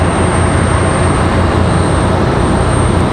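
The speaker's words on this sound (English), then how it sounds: "Looks like they're cleared for takeoff. Going to be a Southwest turn and burn." A Southwest airliner roars loud and steady on its takeoff run at Raleigh Durham airport, a dense broadband engine rumble with no break and no talk over it.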